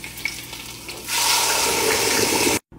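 A loud hissing sizzle bursts out as fresh tomato puree hits hot oil, crackling steadily for a moment before cutting off abruptly.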